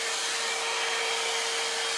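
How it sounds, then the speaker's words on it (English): A hair dryer blows steadily and close, a constant airy whoosh with a thin whine running through it, no other sounds. "with a hair dryer"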